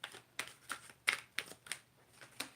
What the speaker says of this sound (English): So I'm just shuffling, by the way.